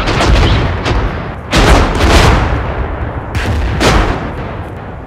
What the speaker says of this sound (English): Move, we got mortars.